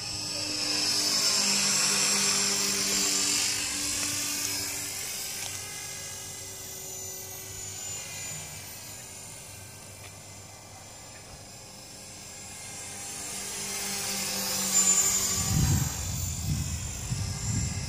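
A T-Rex 450 radio-controlled model helicopter flies, its high-pitched rotor and motor whine swelling and fading as it moves nearer and farther, with a loud rumbling pass close by near the end.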